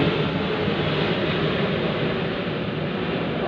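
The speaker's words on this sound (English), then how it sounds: "Plane going over" A steady, low roaring drone of an airplane passing overhead, constant and fairly distant, with no voices.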